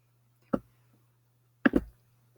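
Two sharp key taps on a computer keyboard while entering a page number, one single click and then a quick double click, close and dry over a faint steady hum.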